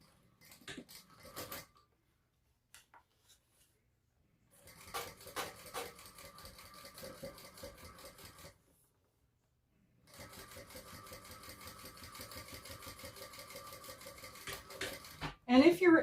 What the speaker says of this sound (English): flip it and top stitch.